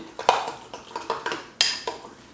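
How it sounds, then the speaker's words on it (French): A spicy sauce in olive oil being stirred in a pan with a utensil, a quick series of light metallic clinks and scrapes against the pan, about eight close taps in an uneven rhythm. "On mélange."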